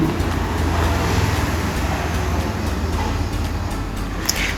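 A bus and steady roadway traffic roll across a long bridge in Male, Maldives, between the airport and the sea, forming a continuous, fairly loud engine and tyre rumble with no pauses.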